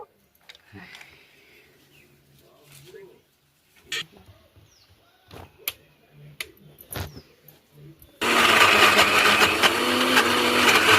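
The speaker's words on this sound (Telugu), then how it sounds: "ఇప్పుడు మనం చెరుక్కున్న మొక్కజొన్న గింజల్ని కొన్ని కొన్నిగా మిక్సీ జార్లోకి అయితే తీసుకొని మిక్సీ పట్టుకుందాము" A kitchen mixer grinder grinds soaked corn kernels into smooth batter. After a quiet stretch of faint knocks and handling sounds, the motor bursts in loudly and runs as a dense, steady whir to the end.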